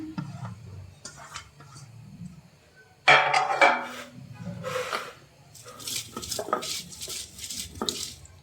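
Onion being ground on a traditional shil-pata grinding stone while making taki fish bhorta, with scraping and knocking strokes of stone on stone, close and fairly loud.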